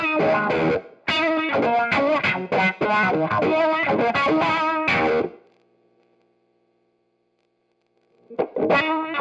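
Electric guitar played through a VRM WX-10 wah pedal, which can mimic a Vox wah: loud, distorted, effect-laden chords and notes for about five seconds, then a silent gap before a short phrase resumes.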